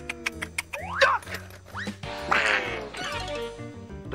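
A cartoon duck gives several quick, nasal quacks amid zany sound effects and music in an animated short, loud and up front.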